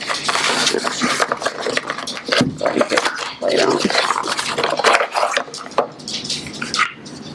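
An Avanchy bamboo and silicone baby plate handled during an unboxing, with close clattering, scraping and tapping of packaging and tableware in quick irregular bursts, while a person talks throughout.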